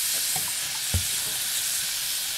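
Zucchini noodles frying in olive oil, a bright continuous sizzle with a few soft stirring knocks, close and steady with no talk.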